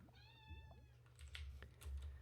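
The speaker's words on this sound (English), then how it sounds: "My cat has just woken up. I can hear her." A pet cat, just woken up, meows several times in quick succession with clear harmonic cries, fairly close, over a steady low hum and some faint tapping.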